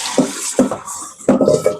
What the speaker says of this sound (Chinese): 这样要洗一洗，把它中间的那个苏打水洗干净。